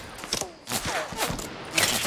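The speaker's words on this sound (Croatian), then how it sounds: "a ima pucanje ovih drugi." Gunfire in the video game Fortnite, with several short sharp bursts and thuds scattered across a couple of seconds, heard at moderate level with no voices over them.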